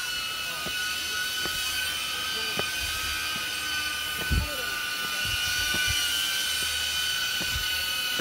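A drone hovers over the Mānoa Falls Trail in Hawaii, its steady high-pitched whine droning continuously overhead while people talk and occasional footsteps or knocks sound nearby.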